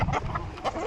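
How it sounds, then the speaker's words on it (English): Roosters fighting on a farm, with brief close clucking and squawks in under a second. "Rooster fight"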